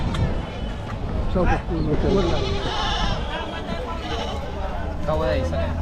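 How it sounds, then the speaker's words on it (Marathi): Osmanabadi goats bleat repeatedly among a crowd at a large goat and sheep market in Chakan, Maharashtra, with people talking over a busy, noisy outdoor background. "शेळ्या बघा मित्रांनो उस्मानाबादीमध्ये आहेत बघा"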